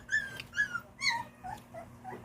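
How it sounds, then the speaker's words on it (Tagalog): A puppy whimpers in a few short, high, whining cries close by, rising and falling in quick bursts with brief pauses between. "Umiyak ng tuta."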